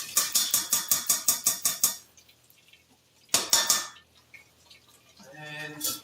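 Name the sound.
adding dal into a cooking pot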